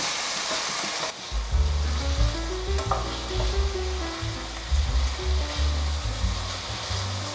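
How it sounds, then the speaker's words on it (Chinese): Bell pepper and king oyster mushroom are stir-fried in a pan with about two tablespoons of added water, a loud steady sizzle broken by the scrape and clatter of stirring. "甜椒放进来，略炒一下，现在加入水，大约2汤匙的水"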